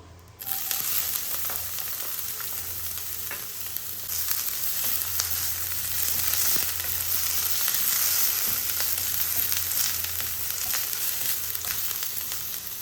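Onions frying in hot oil as the base for chicken béchamel pasta, a continuous bright sizzle that starts suddenly and holds steady and close throughout, with faint stirring ticks and no talk.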